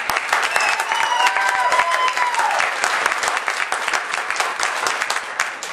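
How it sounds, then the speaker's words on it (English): A roast-event audience breaks into steady, loud applause that fills the whole stretch, with a few whoops and crowd voices rising over the clapping before it eases slightly. "Don't clap for us, clap for yourselves."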